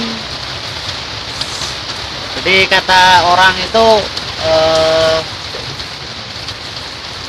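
A first rain of the season falls at SMT Bojonegoro as a constant hiss, while several voices chat and call out for a few seconds in the middle.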